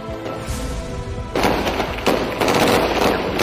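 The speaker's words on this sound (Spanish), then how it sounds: "Sobre las 11:50 de la mañana, se oyen los primeros disparos en la ciudad de Nayaf." Gunshots ring out in the city of Najaf during an unrest, a dense crackle of sharp reports and thuds that grows louder partway through, with bursts layered over continuous rumbling background noise and no talk.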